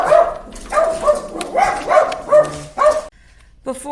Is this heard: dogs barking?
yes